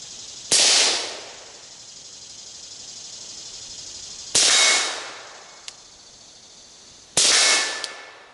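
Three loud, sharp rifle shots crack out during a hunt, spaced a few seconds apart, each followed by a brief decaying echo, with faint clicks between them and no talk.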